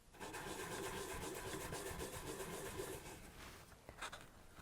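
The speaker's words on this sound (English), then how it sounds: "So you essentially work your way through all of these rubbing your ring." Fine polishing paper rubbed back and forth over a handmade silver ring, a steady close scraping rasp that holds loud for about three seconds and then eases into lighter, uneven strokes.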